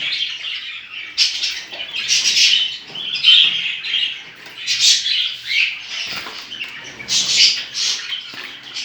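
Budgerigars chirp and twitter in a home aviary, a dense flock of high warbling calls rising and falling in bursts, close and lively with no talking.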